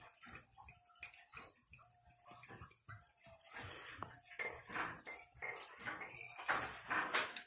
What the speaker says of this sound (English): And then you just pour your 100 proof alcohol